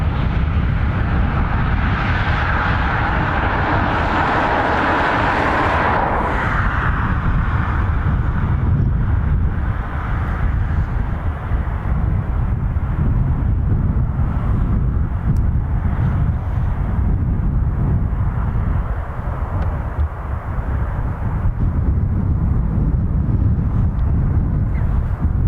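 A Ryanair jet takes off from runway 28 right at Dublin Airport, a loud continuous roar of engines with heavy low rumble and wind buffeting on the microphone, the higher whine fading after the first few seconds as the aircraft climbs away.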